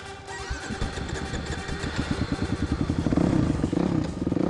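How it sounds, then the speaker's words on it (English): A Suzuki RMX450 dirt bike is restarted after stalling: a clattering kick-over turns into a rapid thumping single-cylinder idle that grows louder and rougher as the throttle is blipped, close to the microphone. "Well, I've stalled it and got to start it."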